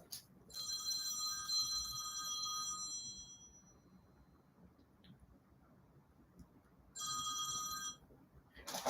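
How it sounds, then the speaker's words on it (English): A telephone bell rings in a quiet room with a long trill, pauses for several seconds, then rings again with a second, shorter burst. "Oh, is that my phone?"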